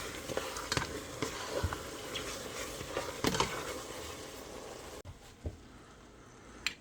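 Thick, cheesy mac and cheese being stirred in a pot, a steady low sizzle with scattered scraping and clacking strokes that quiets after a few seconds, leaving only occasional taps.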